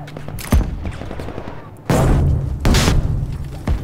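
Grenade blasts and bursts of gunfire in the Battlefield V war game, with several loud, close booms and rapid shot clusters spaced across a few seconds.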